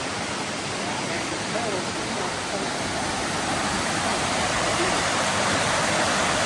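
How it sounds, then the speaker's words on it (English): Fast-moving water pours down Hilton Creek Falls in a constant, dense, full rush heard close by, steady and unbroken with no voices over it. "We made it to the first landing here at Hilton Creek Falls."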